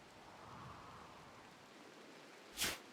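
Steady, soft rain hisses in the background, a faint even wash broken near the end by one brief, sharp crackling burst.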